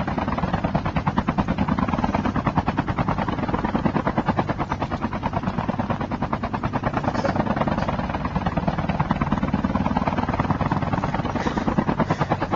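A video-game helicopter drones loudly and continuously with a rapid rotor chop, close and steady throughout with no talk over it.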